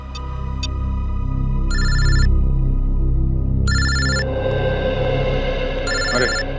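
A telephone rings in repeated bursts of electronic bell tones, about four rings spaced evenly, loud and close over a low background hum.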